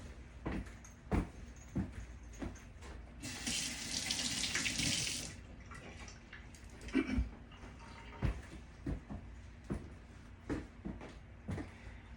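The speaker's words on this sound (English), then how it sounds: "I need to just pop over the sink and wash my hands real quick." Hands are washed under a running kitchen sink tap, a steady close gush of water lasting a couple of seconds amid scattered clinks and knocks, then brief splashes and handling noises as the flow stops.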